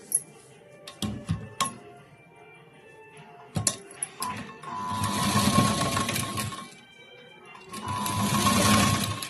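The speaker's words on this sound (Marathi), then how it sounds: "आणि एकदम पायपिंगच्या कडेला शिलाई द्यायची." A sewing machine stitches piping along a blouse edge, starting with a few short taps and bursts, then running in two longer steady whirring passes, close and alone.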